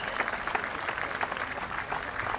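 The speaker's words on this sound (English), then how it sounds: "Wonderful round of applause from all corners of the stadium." A stadium crowd at a blind football match between England and France applauds warmly, a dense, even wash of clapping from all around with no break across the short stretch.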